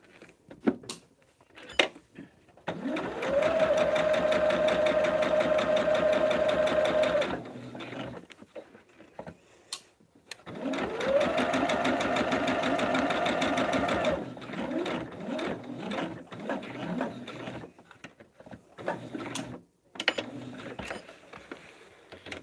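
A sewing machine pieces a log cabin hexagon quilt table topper in two steady runs of stitching, each a few seconds long. Each run is fairly loud and close, with a short quiet pause between them and light handling noises after.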